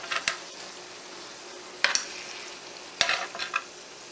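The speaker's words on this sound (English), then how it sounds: "at this point I'm going to turn over the mushrooms" Portobello mushrooms turned over in a hot pan, a low steady sizzle broken by three sharp scrapes and clinks of a utensil against the pan, close and alone.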